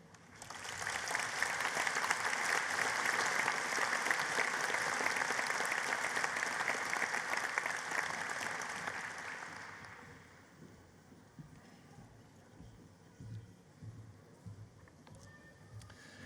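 An indoor audience at a November university honorary award ceremony in Derby applauds steadily with dense clapping for about ten seconds, then fades out into quiet room murmur and a few scattered sounds.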